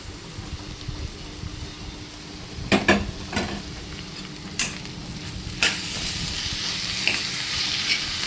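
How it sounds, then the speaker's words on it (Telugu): Boiled ponnaganti greens go into a spiced pan and are stirred, producing a continuous sizzle broken by several sharp clanks and scrapes of a spatula against the pan, with no talking. "ఇప్పుడు మనం ఉడకబెట్టుకున్నటువంటి ఈ కూర పనగంటి కూర వేసేసుకోవాలి"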